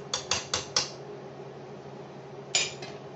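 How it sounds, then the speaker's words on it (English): Metal spoon scrapes and clinks against a pot while stirring seasonings into sautéing onions and peppers, a quick run of four sharp taps followed by a pause and two more knocks. "give this a good mix"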